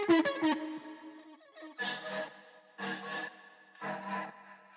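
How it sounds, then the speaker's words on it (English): A short chopped vocal sample plays in a rhythmic pattern, first a quick stuttered burst, then three evenly spaced sung notes with reverb. "Here we have a small vocal chop"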